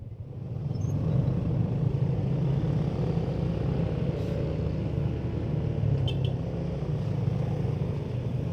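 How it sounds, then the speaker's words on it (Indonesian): A long traffic jam of cars crawling through Bukittinggi during Lebaran brings a continuous low engine rumble, steady and moderately loud with no voices. "Macet luar biasa."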